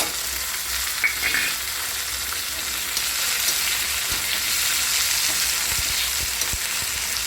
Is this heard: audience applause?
no